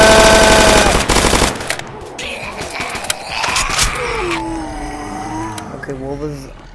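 Rapid automatic gunfire in a Roblox zombie game opens with a loud sustained burst, then gives way to busier in-game effects and shifting tones, with a voice gasping.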